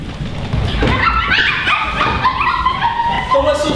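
Performers in a Christmas school play at an arts school in Chrudim imitate dogs with their voices, giving yips, barks and whimpering whines in a lively, continuous stretch, with stage speech mixed in.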